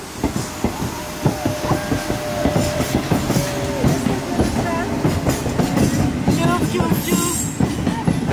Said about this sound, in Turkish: Trene bak Vera, tren.